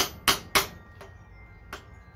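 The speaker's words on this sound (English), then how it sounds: "Basically just catching the edge of the seal, the chisel, pushing him on down." A hammer strikes a chisel to drive a seal down during a KDP (Killer Dowel Pin) kit install on a Cummins 6BT engine: two sharp close metallic taps, then a fainter tap and a last light hit.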